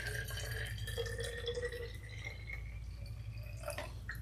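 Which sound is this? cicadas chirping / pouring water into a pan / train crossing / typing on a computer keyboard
pouring water into a pan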